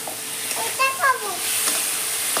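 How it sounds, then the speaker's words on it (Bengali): Potatoes sautéing in a spiced masala with oil for a mushroom curry, a steady close hiss of frying with brief stirring scrapes and a faint voice in the middle. "এখন দিয়ে দেবো আলু। আলু দিয়ে আরও কিছু সময় কষবো"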